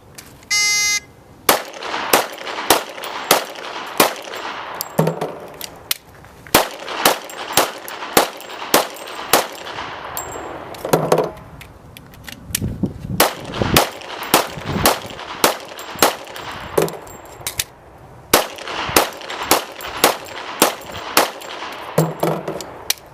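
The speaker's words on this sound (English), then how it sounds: "Now she'll demonstrate shooting 30 rounds with 6 rounds" Rapid pistol or rifle fire, thirty rounds shot in five quick bursts of six with brief pauses between for magazine changes, sharp loud cracks at an outdoor range.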